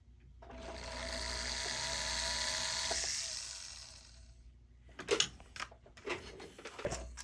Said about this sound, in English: take a little bitty burr on that center line and drill me a little pilot